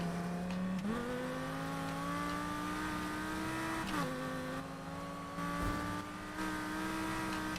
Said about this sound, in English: this car accelerates really fast and it feels like it's going fast because it goes through the gears fast